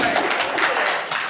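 A live podcast audience claps steadily for about a second, a dense wash of applause close to the mics with a few voices mixed in.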